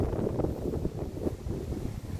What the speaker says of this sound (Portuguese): Pegando muito bem o vento aqui,